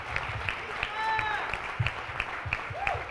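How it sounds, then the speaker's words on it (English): An audience applauds at the Illinois Association of Hispanic State Employees annual conference. Scattered, moderately close claps arrive in a loose rhythm, with a voice and a brief whistle-like tone mixed in. "How about a round of applause for Representative Hernandez?"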